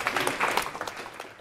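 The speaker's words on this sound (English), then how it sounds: "please join me in giving him a warm round of applause" A conference audience at a Singapore cloud developer event claps for a speaker, giving brief, moderately quiet scattered applause.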